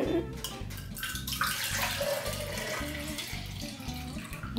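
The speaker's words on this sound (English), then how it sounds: "first you're going to fill your jar with water" Tap water runs steadily into a jar for a kids' science experiment, a continuous close splashing pour with faint background voices.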